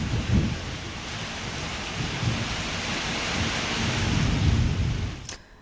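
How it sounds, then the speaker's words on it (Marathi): Heavy unseasonal morning rain in Ratnagiri, Maharashtra, a dense, loud, continuous roar of downpour with low rumbling swells throughout, cutting off abruptly at the end. "रत्नागिरीमध्ये आज सकाळी अवकाळी पावसाच्या जोरदार सरी बरसल्यात"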